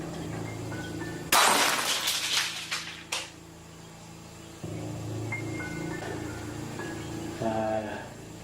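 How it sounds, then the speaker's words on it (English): Glass suddenly shatters during a Halloween-night Ouija board session, a loud sharp burst of breaking glass followed by a few scattered tinkling pieces, then a low room hum with faint clinks and a brief noise near the end. "the glass shattered"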